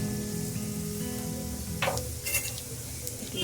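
Sliced onions fry with nigella seeds in hot oil, giving a soft, steady sizzle over a low background hum, with a few brief clinks of a utensil against the pan. Quiet to moderate and close.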